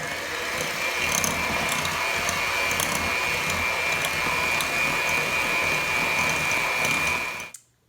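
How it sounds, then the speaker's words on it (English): Electric hand mixer whirring steadily as it beats egg and sugar for pumpkin chocolate chip cookie dough, a loud continuous motor drone with a high whine that cuts off abruptly at the end. "I'm just going to mix this with an electric mixer until it's all combined."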